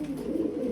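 A pigeon at a farm coos softly, a low continuous murmur of calls close by with no talking.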